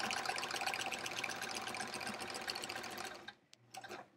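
A sewing machine runs steadily while quilting horizontal lines on a sampler quilt, a dense continuous stitching whir that stops abruptly near the end, followed by a short back-tack burst.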